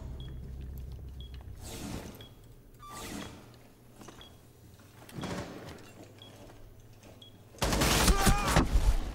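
Video game gunfire with scattered shots and a dense burst of rapid fire near the end over quiet background ambience.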